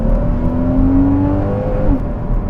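A Porsche Cayman S 981 with stock exhaust idles and revs nearby, a loud steady engine drone with a rising-and-falling rev note over a couple of seconds.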